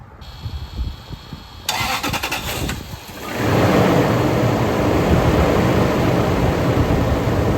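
A Toyota 100 Series Land Cruiser engine cranks with a rapid whirring starter after timing belt and radiator work, stumbles and sputters briefly, then catches and settles into a loud, steady rumble.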